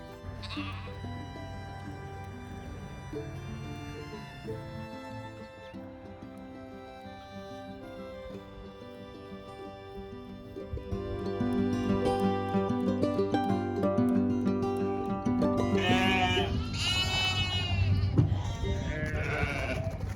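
Sheep bleat repeatedly on a farm during a vaccination session in lambing season, the calls loud and overlapping, growing busier and more insistent toward the end over a steady barnyard background.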